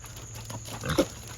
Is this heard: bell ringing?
no